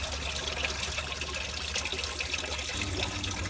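Engine oil drains from the sump of a VW Touareg in a steady, close trickle that splashes into a catch pan, continuous and unbroken, with no voices.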